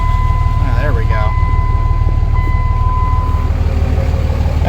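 A Dodge pickup's Cummins diesel runs with a constant heavy, low clatter and drone up close, while a voice briefly murmurs over it and a thin electronic tone sounds in the background.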